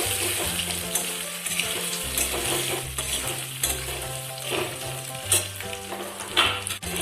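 Cut boiled potato being stirred and fried in a pan for singara filling, loud continuous sizzling with repeated scraping strokes of a spoon and occasional clatters, no talk.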